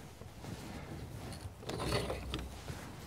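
A trailer jack on a camper is cranked with a run of rhythmic mechanical ratcheting and grinding clicks, close and moderately loud, with no talking.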